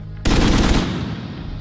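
Sudden burst of automatic gunfire recorded in an urban street setting for The Division 2, loud and close, a rapid rattling volley that then decays into a long ringing echo off surrounding buildings.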